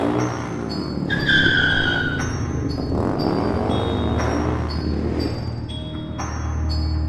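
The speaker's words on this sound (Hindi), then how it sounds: "गुल्ली बुल्ली और रॉड एक बाइक पर सवार हो जाते हैं और बाइक लेकर वहां से जाने लगता है।" A cartoon motorbike pulls away with an engine note, skidding tires and rising revs, steady and fairly loud, with no talking.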